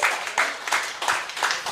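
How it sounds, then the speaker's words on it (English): An audience at a surf expo applauds, heard as short swells of dense, close clapping that rise and fade a few times in a brief burst. "So a round of applause for Andre."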